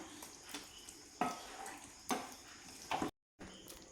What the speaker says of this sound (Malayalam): വീണ്ടും ഒന്നും കൂടി ഒന്ന് ഇളക്കി കൊടുക്കാം